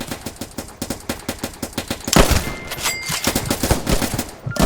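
Rapid bursts of gunfire from the Roblox trench-warfare game Trenches, with regular repeated shots in the first half giving way to a denser, louder volley and continued firing toward the end.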